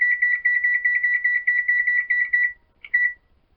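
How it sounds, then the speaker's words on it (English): A kitchen timer being set while making cheese with vinegar: a rapid run of loud electronic beeps in quick pulses, stopping briefly before one more short beep, with no talking. "So I'm going to set my timer for 15 minutes."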